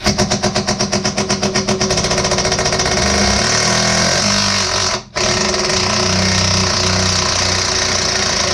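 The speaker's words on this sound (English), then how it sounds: "So, I'm going to use an impact wrench, which may turn out to be a bad idea," An impact wrench on the shock bolts of a Jeep TJ, loud and close, starting with a rapid hammering rattle that smooths into a continuous high-speed whir, briefly cutting out before resuming.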